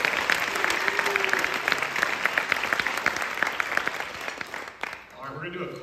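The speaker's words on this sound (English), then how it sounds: "Can we do also one more round of applause for Ethan Murray and Drew Chapman?" Applause from an audience at a high school jazz band spring concert, dense steady clapping for about five seconds before tapering off as a voice begins speaking at the end.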